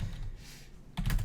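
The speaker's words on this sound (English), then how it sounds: "A lot of typing." Rapid typing on a computer keyboard: a soft, dense patter of key clicks that swells into a louder burst of keystrokes near the end, heard alone without voices.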